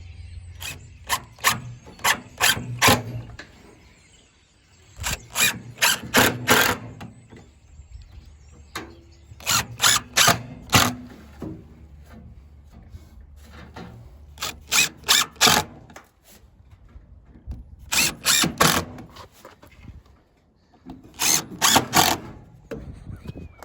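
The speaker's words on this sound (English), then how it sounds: "Phillips head screws. So let's get them installed and see what happens." A power drill drives weatherproof Phillips head screws, making repeated short bursts of whirring and ratcheting in close clusters with pauses between each screw, loud and near.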